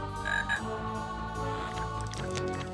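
Frogs croak steadily in the video game Herc's Adventures, a dense, buzzing chorus of low, throaty calls that is loud and continuous with no talking over it.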